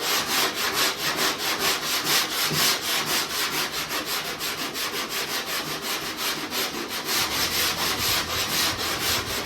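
Steady, rhythmic back-and-forth strokes of a sanding block on hardened body filler, close up and fairly loud, with no talking.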